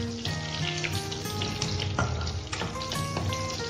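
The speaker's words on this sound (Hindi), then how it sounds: "देखिए हमारा ये फोरन अच्छे से फ्राई हो चुका है" Panch phoron spices fry in hot tempering oil with a dense, close sizzle and scattered crackles and pops that continue steadily through the short stretch.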